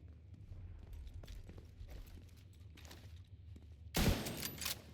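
Gunfire in The Division 2 game, scattered faint shots and thuds in the background, then a sudden louder blast near the end, with no speech.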